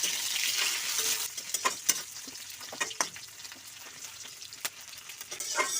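Onion, bay leaves and green chilies fry in hot oil in a pan for an Assamese-style mutton curry, a close, steady sizzle broken by stirring scrapes and clicks, with no talking.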